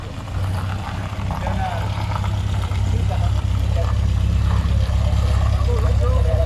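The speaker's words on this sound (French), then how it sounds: "Il y a une voiture qui arrive, je sais pas du tout ce que c'est" An MGB sports car approaches and passes at a motor museum, its engine a steady low rumble under outdoor background noise, with people talking nearby.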